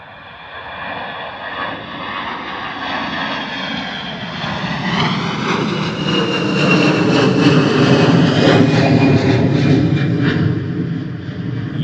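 A fixed-wing airliner takes off from the runway at Bristol Airport during early-morning reverse operations. The loud jet engine roar builds steadily and swells over several seconds as the plane climbs, with no talking.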